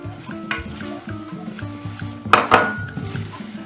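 Coconut flakes stirred into sugar syrup in a pot for shredded coconut snack balls, a spoon scraping and clinking against the pot in irregular strokes, close and alone, with one sharper knock near the end.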